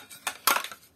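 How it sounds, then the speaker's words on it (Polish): Small toy plates, a larger and a slightly smaller one, and a little bowl are handled, producing a few light clattering knocks close by and quiet, with no talking. "Jeden talerzyk duży, drugi taki trochę mniejszy. O. I mamy do tego jeszcze miseczkę."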